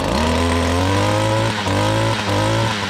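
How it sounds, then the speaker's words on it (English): A Stihl FS56RC weed eater's two-stroke engine running steadily at speed, a loud, continuous buzzing drone heard close up with a slight pitch rise, no voices. "Comes right up to speed."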